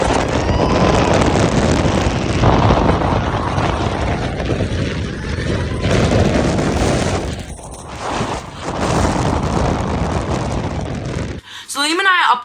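Strong blizzard wind roars across a ski slope near a closed lift, a loud continuous rush buffeting the microphone for most of the clip, with voices talking underneath and a brief different sound at the very end.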